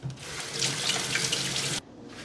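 A kitchen tap runs steadily into a sink as hands are washed partway through cooking Jamaican stew peas. The rushing water sounds close and continuous, then cuts off sharply near the end.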